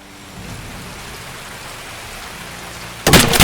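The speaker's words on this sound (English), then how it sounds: "It had started to rain heavily and visibility was poor." Heavy rain in the Escape From Tarkov game, a steady dense hiss of downpour that swells abruptly into a louder, harsher burst near the end, with no voices.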